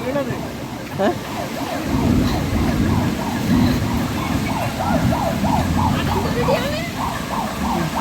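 A siren wails from a distance during a hike on Gunung Pulai in Johor, Malaysia, its rising and falling tone repeating steadily under people talking nearby.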